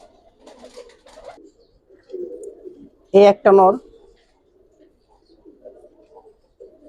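Giribaz pigeons at a loft, including a male bird, coo softly while someone talks over them; a brief, louder harmonic burst sounds midway.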